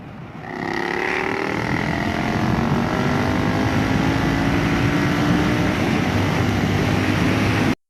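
A Triumph Scrambler 1200 XC motorcycle accelerates hard, its engine drone rising steadily and staying loud and close for several seconds before cutting off abruptly.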